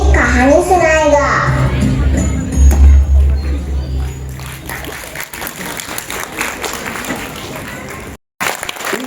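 Applause from the audience at a school Republic Day event, a broad burst of clapping that follows a voice and continues loud and dense through most of the clip, with brief crowd sounds mixed in.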